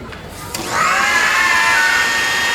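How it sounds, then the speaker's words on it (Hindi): A kitchen mixer grinder whirs up to a loud, steady high-pitched drone after a brief quieter moment, running close by. "त मिक्सी ऑन कजे।"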